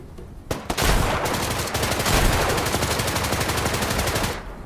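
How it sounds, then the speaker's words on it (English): Rapid bursts of shotgun fire in an action video game, loud and close, with a dense barrage of blasts for several seconds before the firing stops abruptly. "it is pretty satisfying to shoot guys with a shotgun"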